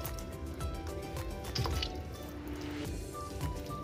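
Lemon squeezed by hand over a grilled tandoori turkey leg gives soft wet squishes and scattered drips, close and fairly quiet, with no voices.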